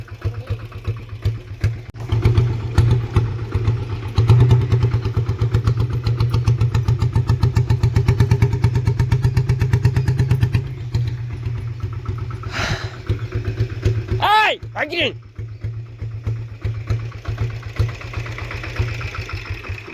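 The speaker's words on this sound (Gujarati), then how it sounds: "મોટરસાયકલ લઈ લાવો" A motorcycle engine idles steadily with a low, throbbing rumble, revving briefly partway through, with a couple of short high chirps near the end.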